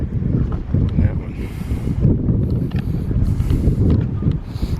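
Gusty wind buffets the microphone outdoors near the New Bedford hurricane barrier, a steady low roar rising and falling across the whole stretch, loud and close.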